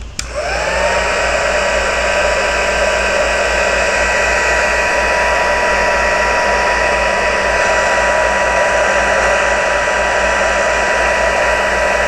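A hair dryer runs steadily to dry a craft project, switching on with a brief rise and then a loud, constant whirring hum that continues unbroken for about twelve seconds.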